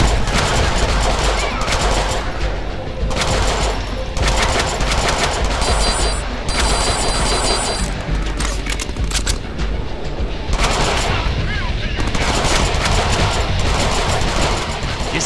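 Deadpool's gun in the Deadpool video game firing dense, continuous bursts of automatic gunfire, loud and close, with rapid shots piling into a sustained clatter broken by brief gaps, under game sound and music.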